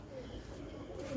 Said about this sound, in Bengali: জালালি কবুতর